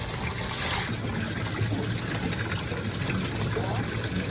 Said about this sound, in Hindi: पानी बिल्कुल ही जरा जरा निकल रहा है